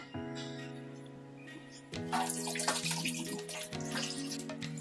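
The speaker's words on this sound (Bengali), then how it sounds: "এই জলটা এবার আমি আবার ফেলে দেবো একবার" Water is poured off washed flour dough: after a quiet start with a faint hum, a splashing, gurgling pour begins about two seconds in and runs to the end, close and moderately loud, with no talking.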